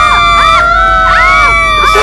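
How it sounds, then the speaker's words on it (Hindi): Children at a school shouting and screaming, with loud, overlapping high-pitched shrieks rising and falling over a constant noisy crowd din. "ये चीख चिल्लाना कैसा?"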